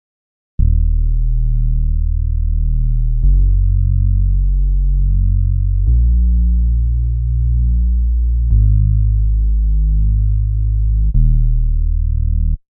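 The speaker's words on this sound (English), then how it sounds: "let me play the bass on its own" A solo synth bass line from a Logic Pro X Zouk, Kizomba and Afrobeats beat plays alone, with deep sustained notes that change pitch roughly every two and a half seconds, heavy and smooth with no other instruments.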